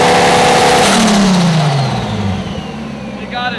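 A four-door Toyota Supra on its first test drive, engine revving hard then pitching down as it shifts and drops back, loud and close, with a brief sharp rev near the end and voices underneath.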